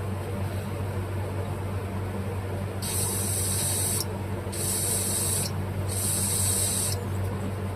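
Penetrating oil sprayed onto a small-engine carburetor from a Bolens Husky 18 push mower, three sharp hissing bursts of about a second each, close up over a steady low background hum.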